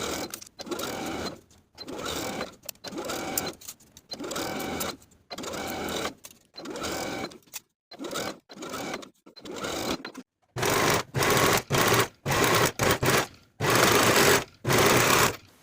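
A sewing machine stitches a dress bodice to the top skirt with a ruffle sandwiched between, running in repeated loud bursts of rapid whirring separated by short pauses, close and alone.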